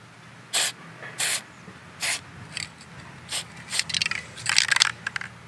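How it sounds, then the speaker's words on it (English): Short hissing bursts from an aerosol anti-friction spray can while changing freewheeling hubs, a few separate sprays followed by quicker, choppier spurts mixed with faint rattling and scraping. "I thought I'd give it a shot because it's a really interesting anti-friction spray"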